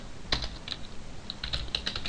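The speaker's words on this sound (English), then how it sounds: "Let me type it right." Rapid clicky keystrokes on a computer keyboard during Java coding, irregular taps in short bursts, close and moderately loud with no talking.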